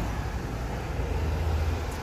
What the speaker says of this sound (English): Sorry for the road noise.